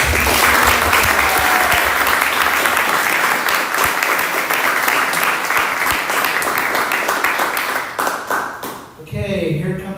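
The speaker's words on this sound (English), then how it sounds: "everyone, let's give a big round of applause." An audience at an immersive roleplaying event breaks into loud, sustained applause and clapping that holds for several seconds before fading, followed by someone talking near the end.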